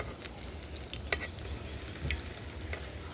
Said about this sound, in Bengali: অনেকটা সময় নিয়ে কিন্তু ভাজতে হবে।